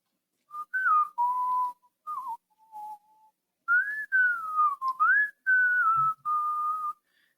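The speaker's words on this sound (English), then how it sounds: "If you know what I started whistling" Someone whistles a melodic tune alone, clear and close, in short phrases with brief pauses between them.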